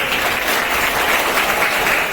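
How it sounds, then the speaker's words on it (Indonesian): Students in a classroom clap together in a dense, steady burst that stays loud and even for the whole stretch. "Oke, tepuk tangan"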